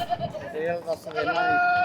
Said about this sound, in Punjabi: ਆ ਬੱਕਰੀਆਂ ਮਾਨਾ ਦੇਖ ਲਾ